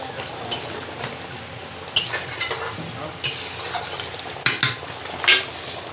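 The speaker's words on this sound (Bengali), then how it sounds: "এবার আমি কোপ্তাগুলো একে একে দিয়ে দেবো" Jackfruit koftas dropped one by one into a hot pan, steady frying sizzle broken by several sharp utensil clinks and splashes.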